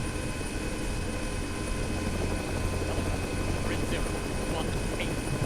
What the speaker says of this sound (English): Switching helicopters to Apaches.